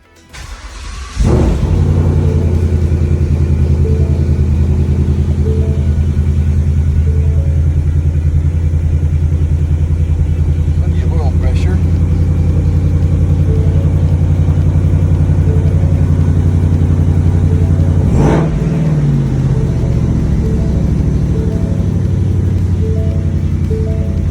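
An S550 Ford Mustang engine cranks and fires, then settles into a loud, steady, rumbling idle close by with a slight rev swell, and no one speaks.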